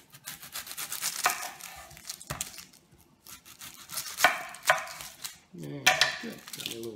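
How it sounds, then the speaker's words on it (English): An onion sliced with a knife at an outdoor camp, several separate crisp cutting strokes that come irregularly over a quiet background, some louder and closer than others. "I'm just going to slice up a little bit of this onion"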